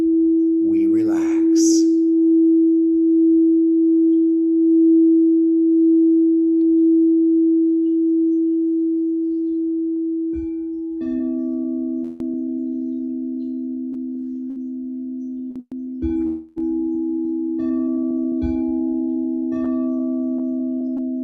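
Meditation tones at a Sunday celebration service: a pure, steady sustained tone holds alone before lower layered tones join, swelling and briefly cutting out in places, with a faint voice near the start.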